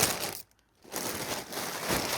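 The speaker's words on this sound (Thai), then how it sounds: "แล้วเราก็จะเอาใส่ในถุง" A folded blanket is pushed into a plastic vacuum storage bag, giving steady crinkling and rustling of plastic with a short pause partway through.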